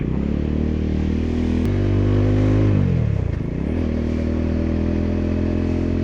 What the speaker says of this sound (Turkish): Gerçi arkadaşın motoru da çok güzelmiş.